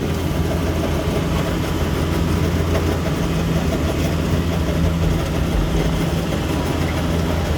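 A Z3000 rice combine harvester's engine drones loud and steady as the machine sits bogged in soft paddy mud, a continuous low rumbling throb with no breaks and no voices.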